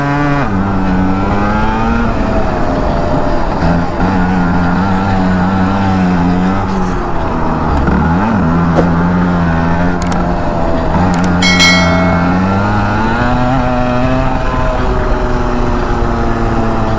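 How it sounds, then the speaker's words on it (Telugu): A 16 hp Rotax racing kart engine drones loudly and continuously on track, its pitch rising and falling through acceleration and braking, with one sharp dip near the middle. No speech. "ఇది 16 హెచ్పి కార్ట్ అన్నమాట అవి రోటాక్స్ చాలా పవర్ఫుల్ ఉన్నాయి"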